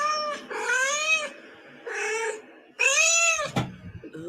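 A recording of cats meowing plays from a phone: four drawn-out, loud, close meows with short gaps between, followed by a brief knock.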